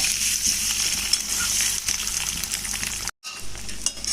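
Eggs fry in hot oil for an egg masala curry, giving a steady, close hiss and sizzle with a brief cut near the end and no talking.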